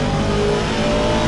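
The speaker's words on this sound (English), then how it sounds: "He is in the Aston Martin, so I apologise if you can't hear me because this is a very loud car." Aston Martin V8 race car in Assetto Corsa Competizione at Oulton Park, engine roaring loud and steady at high revs, dense and continuous with no talk.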